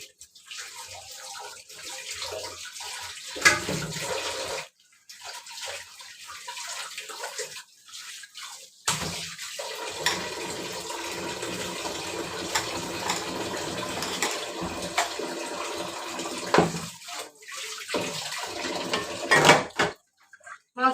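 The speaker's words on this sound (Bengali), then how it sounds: "এবার আমি পরিষ্কার করে মাছগুলো ধুয়ে নেব" Freshly cut fish rinsed under a running tap, water streaming and splashing in bursts with brief pauses, close and fairly loud.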